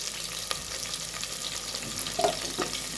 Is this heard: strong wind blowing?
no